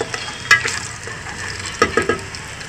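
Bay leaves (tej patta) sautéing in a pan for jeera rice, a light sizzle broken by a few sharp stirring clicks and scrapes of a utensil against the pan.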